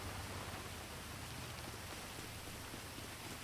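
Steady rain pours down in GTA V, a dense, even hiss of falling water that holds constant throughout with a low hum beneath, no voices present.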